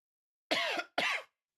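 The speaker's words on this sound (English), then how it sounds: "I cannot shake this cough." Two quick, harsh coughs in close succession, near and clear against silence.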